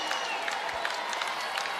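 South Dakota Jackrabbit football fans applauding in the stadium at Vermillion, a faint, distant spread of clapping and crowd noise with a commentator talking over it.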